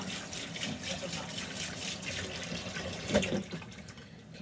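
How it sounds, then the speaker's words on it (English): Water from a kitchen tap runs steadily while a knife is rinsed under it, a continuous close splashing stream with a brief clatter near the end. "Now I have to wash off this knife so I can use a flat edge over all over again."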